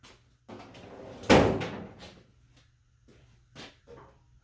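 A wooden drawer slides into a rebuilt tool box and lands with a firm knock at close range, followed by a few softer bumps and scrapes as it settles.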